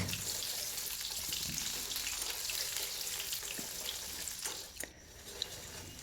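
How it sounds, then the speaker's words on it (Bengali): Chopped onions fry in hot oil with black mustard seeds and cumin, giving a loud, continuous close sizzle with occasional stirring scrapes and small pops, and nobody speaks. "পেঁয়াজটা খুব ভালো করে ভেজে নেব"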